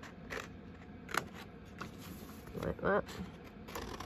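Scissors snip through paper in a few quick, close, quiet cuts with a short crunchy run near the end, as a voice speaks briefly.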